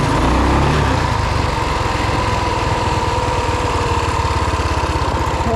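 A 2WD Rokon motorbike with a 223cc Wildcat engine runs loud and close, a steady rapid putter with a slight rev swell at the start, then settling into an even idle-like drone.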